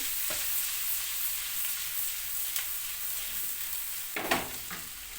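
Meatballs frying in oil in a pan, a constant bright sizzle with a few sharper crackles and stirring clinks toward the end, close and without talk.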